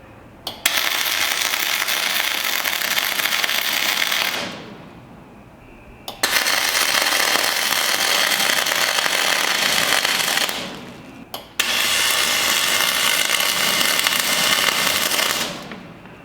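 A spool gun MIG welder lays three long beads on a Jeep Cherokee XJ storage rack, each a loud steady crackling buzz of about four seconds separated by short quiet pauses.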